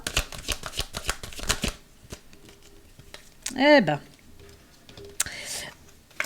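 Tarot cards shuffle in a quick series of crisp riffling flicks, followed by a single card drawn and laid down, with a person speaking softly in between.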